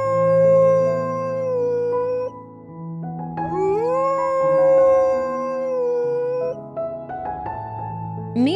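A Eurasian wolf gives long, wavering howls, rising and falling in pitch across several sustained calls, clear and fairly close with no other sounds.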